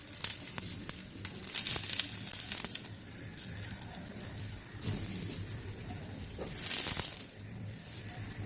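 Ghee sizzles on a hot pan while moong dal bread pizza is prepared, with an uneven crackle, scraping and stirring, and short louder bursts near the mic.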